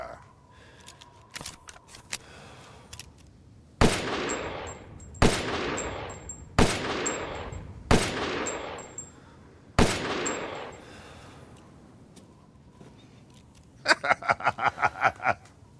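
The S.T.A.K.E. magnum in Resident Evil Village fires five heavy, booming single shots at slow, even intervals, each followed by a short mechanical clack, then a rapid rattle of reload clicks near the end.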